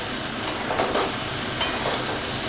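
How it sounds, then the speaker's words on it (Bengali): Boiled taro stolons sizzle while being stirred with onion in a pan, a steady close frying hiss broken by a few faint scrapes of the spatula. "এবারে কচুরলতিগুলো দিয়ে একটু ভালো করে নাড়াচাড়া করতে হবে"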